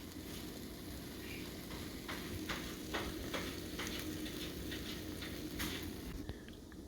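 Brioche bread for French toast sizzles in butter in a pan, a steady soft crackle with faint pops and scrapes, fairly quiet and close.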